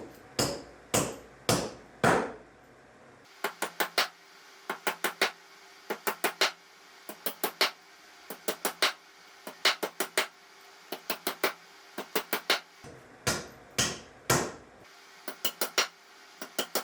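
Hammer blows from an Estwing and a titanium hammer in a kinetic energy test, sharp loud strikes: a few slow single hits, then quick repeated clusters of three to five blows with brief pauses between groups.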